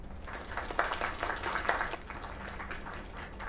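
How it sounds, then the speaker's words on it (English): Applause inside the video game Lake, a steady crowd clapping that holds for a few seconds at moderate level, a little distant, with no voices over it. "Another round of applause."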